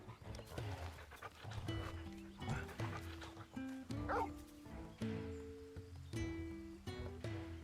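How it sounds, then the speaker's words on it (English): Wolf pup Torgal from the game Final Fantasy XIV barks and yips repeatedly in short bursts, with some whimpering, over soft game background sound. "This is Torgal, a wolf pup raised in Duchy."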